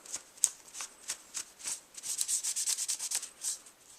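Rails of a Ruger SR-22 pistol being cleaned, a series of quick scratchy rubbing strokes, faint and close, speeding into a brisk back-and-forth rhythm.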